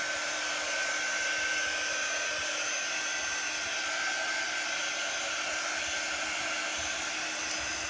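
A hair dryer blows with a steady, loud whooshing roar, drying a handmade craft bow without pause.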